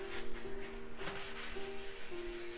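Oil paint being wiped off an MDF painting palette: a brief, soft rubbing and smearing sound of cloth dragged across the board, close and fairly quiet against a faint background hum.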